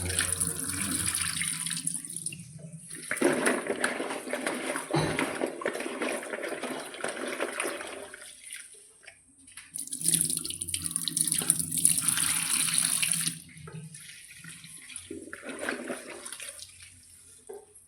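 Running tap water splashes over taro root being rinsed by hand, the flow cutting off and resuming in bursts, with drips between.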